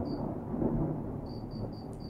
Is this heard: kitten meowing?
no